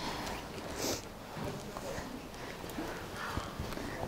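Horse hooves clip-clop faintly on a yard surface in a horse stable yard, a soft irregular patter under background noise, with someone talking nearby at times.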